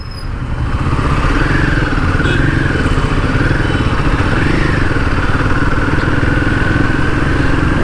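Royal Enfield Himalayan 450 motorcycle ridden on the road, its engine droning steadily and loudly with a gently rising and falling pitch, wind and road noise mixed in throughout, no talking.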